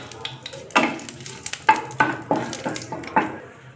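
A tempering of bay leaf, dried red chili and nigella seeds sizzles in hot oil, heard close as bursts of frying crackle punctuated by rhythmic stirring strokes and light utensil clinks, with no voice over it.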